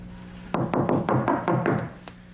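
Knuckles rap on a door in a quick series of about eight knocks, fairly close and clear against a quiet room, with one last faint tap after a pause.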